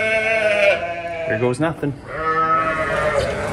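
Sheep bleat repeatedly at close range while ewes and lambs are moved through a door on a farm, the calls layered under people talking and coaxing the animals in.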